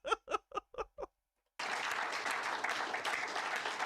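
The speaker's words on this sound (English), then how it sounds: "when the decision comes down, everybody, including the judges, clap" A crowd in a mock-trial courtroom bursts into applause at the verdict after a few short laugh-like bursts and a brief silence, the clapping then continuing steadily to the end.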